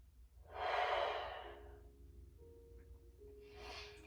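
A deep, slow breath during a seated lower-core stretch, one long airy exhale swelling and fading, then a second shorter breath, close to the microphone with faint tonal hum beneath.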